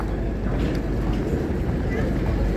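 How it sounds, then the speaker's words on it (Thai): Steady low rumble and broadband wash of a river ferry crossing to Sathorn in Bangkok, engine drone and water or wind noise constant throughout at close range, with no distinct events. "ขึ้นเรือมาครับ"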